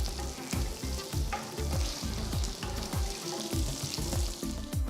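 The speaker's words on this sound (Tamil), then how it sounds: "அடுத்து 2 டேபிள் ஸ்பூன் எண்ணெயை ஊற்றி 1 டீஸ்பூன் சீரகம் போடுங்க." A teaspoon of cumin seeds fries in hot oil in an iron kadai, giving a continuous close sizzle. Repeated scraping strokes of stirring cut through the sizzle, and no one speaks.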